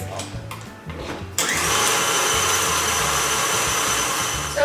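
An electric mixer beats chocolate chip banana bread batter in a bowl, a steady loud motor whir that starts choppy and then runs continuously to the end, with no talking.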